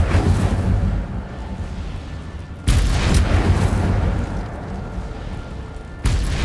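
Two sharp, booming fiery blasts from the Incendio spell in Hogwarts Legacy, each a sudden burst that fades into a rumbling tail, the second arriving a few seconds after the first.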